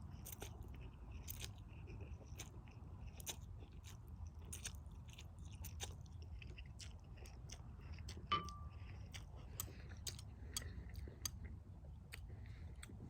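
Close, quiet chewing and crunching of Mama brand Pho instant noodles, with soft bites and small crackles scattered over a low background hum, no talking.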